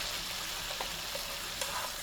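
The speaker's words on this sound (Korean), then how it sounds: "이렇게 정종을 넣었을 때 이렇게 막 끓어오르는 소리가 나야 돼요." Sake and butter sizzle and bubble around king oyster mushrooms in a hot pan, a steady close crackling hiss with small pops throughout.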